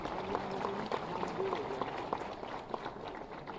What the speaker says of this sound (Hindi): सभी की जोरदार तालियों के साथ साथ